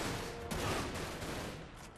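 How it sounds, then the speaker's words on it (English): Dense rapid gunfire from the video game Dirge of Cerberus rattles as a continuous fusillade of shots. It sounds fairly faint and muffled, with no talking over it. "bad guys, I hear gunfire"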